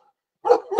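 A dog gives one short, sharp bark that breaks out of silence, loud and close, followed by a brief second yelp.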